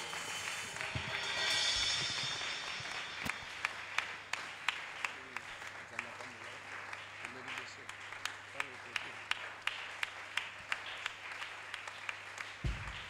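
A church congregation applauds in praise during a worship service, steady rhythmic clapping building into sharp, regular claps, with voices and a low sustained tone underneath.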